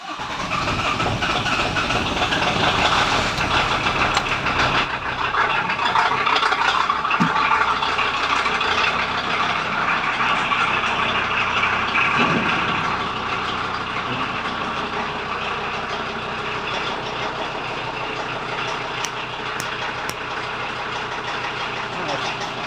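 A 1994 VW Transporter T4 engine, just back from clutch repair, runs steadily at idle with a constant broadband rumble that fills the whole stretch, loud and close.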